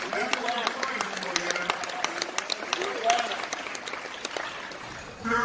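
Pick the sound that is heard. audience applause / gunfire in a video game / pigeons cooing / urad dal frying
audience applause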